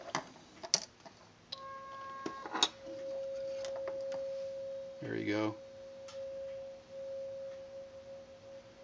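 A steady, thin CW tone plays from a bare speaker without any resonant enclosure, faint and unbroken for several seconds, after a few clicks and brief words from a nearby voice.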